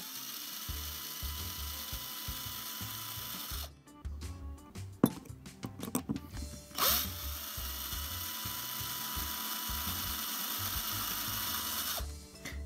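A hand drill bores into a diecast toy car body, giving short bursts of whirring and grinding between quiet pauses, close and fairly soft, with no talking.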